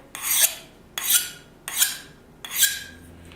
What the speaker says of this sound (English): that's a couple passes on the Scotch-Brite belt